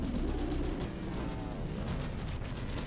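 Cannon fire from a battleship in the From the Depths video game makes a dense, continuous low rumble of booms at close range, loud and unbroken, with no speech.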